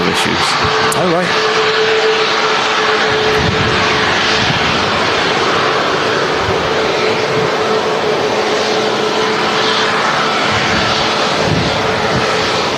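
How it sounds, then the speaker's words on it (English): Boeing 737 MAX jet engines taxiing at a windy Manchester Airport produce a steady, fairly quiet whine and rumble. Gusts of wind and background voices continue throughout. "the engines are a lot quieter on the taxi with the Maxes"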